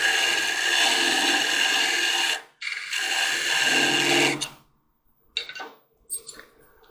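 Parting tool cutting into spinning wood on a lathe while a long-stem goblet is turned, a loud broadband scraping hiss in two sustained passes, then short lighter touches.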